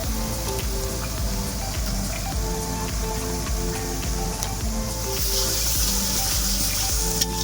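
Ground ginger paste sizzles in a pan of tomato-based masala for Bengali katla fish kalia, a steady close hiss with crackling spatter that grows slightly louder toward the end, with no talking.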